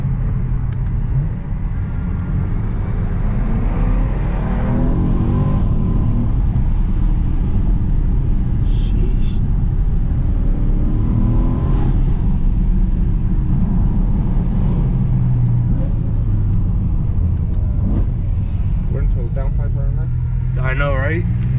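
A BMW E92 M3 with a burble tune rumbles with a low, steady engine drone while driving, heard from inside the car under loud, continuous conversation.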